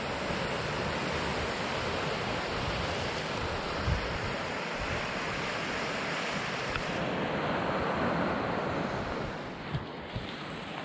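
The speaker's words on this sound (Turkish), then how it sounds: "sesin şu dalgaların sesini bir dinleyin" Steady roar of sea waves washing in continuously, broad and rushing, with some wind buffeting; no voices.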